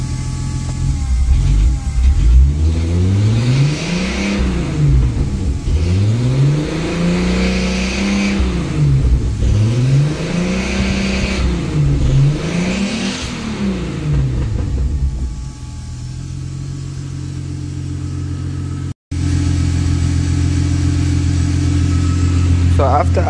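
Car engine fitted with an Emerald K6 ECU, shortly after a cold start with a suspected lean condition, idling and being blipped in repeated smooth throttle rises and falls, close up, then settling to a steady idle with brief talk.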